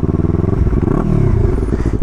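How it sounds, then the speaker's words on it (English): A Yamaha R3 motorcycle with a slip-on exhaust and stock catalytic converter revs up close and loud, its engine note rising and falling in a brief burst with no talk over it. "So if we rev it up a little bit,"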